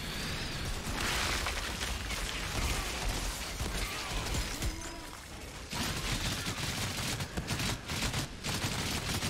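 Dense bursts of automatic gunfire and explosions in the shooter game Outriders, loud and nearly continuous, rattling on with only a brief dip partway through.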